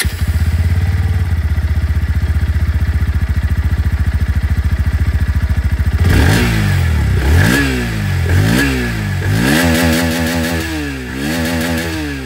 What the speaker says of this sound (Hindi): अब मैं आप लोगों को यहाँ पर जो NS की एग्जॉस्ट साउंड है दोस्तों वो भी मैं सुना दूं